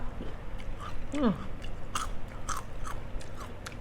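Crisp bites and crunchy chewing of a spicy Korean snack, heard close up, with a sharp crunch followed by several softer crackles.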